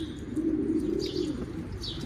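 A stray pigeon, an old blue type, coos with a low, steady purring throughout, close by and fairly quiet, with faint higher chirps over it.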